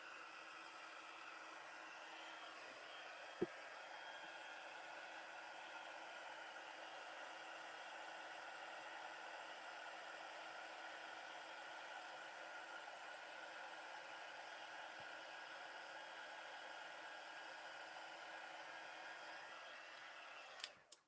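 A handheld heat tool blows steadily and alone for about twenty seconds, setting paint in a papercraft project, with a soft even whir that clicks off at the very end.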